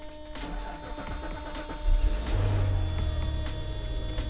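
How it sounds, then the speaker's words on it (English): A Mercedes 500SEL engine idles in park after repair work on a low-flow issue, giving a steady low hum with a faint whine and a rough low rumble that swells midway through. "Car still sounds so good."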